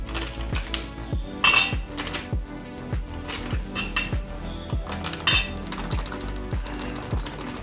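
A metal spoon repeatedly clinks and taps against a bowl while adding flour and arrowroot starch to shredded cabbage for Manchurian, a steady series of sharp, close knocks with a few brighter scraping accents.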